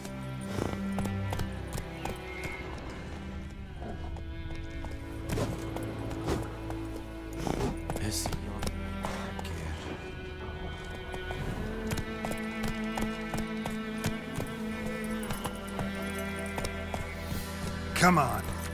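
Horse hooves clopping in a video game, a rhythmic gallop heard under background music with a player talking over it.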